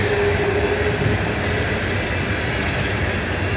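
A Norfolk Southern empty coal train hauled by an EMD SD70ACe locomotive rolls past on old Monongahela Railroad track, a loud, steady rumble of cars with low engine drone and faint wheel rattle, no voices.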